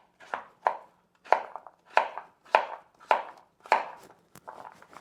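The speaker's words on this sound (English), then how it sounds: "Then we're going to take them and we're going to start to cut them into" A knife dicing butternut squash on a cutting board: about a dozen crisp, close chops in an uneven rhythm, each a sharp thud against the board, with no talk.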